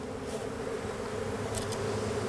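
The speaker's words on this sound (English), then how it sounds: "these bees will go into this hive" Honeybees swarm outside a hive, a soft, steady buzzing hum that stays at a constant level throughout, faint and without voices.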